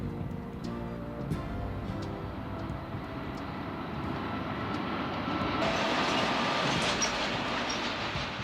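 A Union Pacific double-stack freight train rolls past in desolate high-desert country near the California-Nevada border, a steady, loud rumble of wheels and cars on rail that continues throughout and swells slightly toward the end.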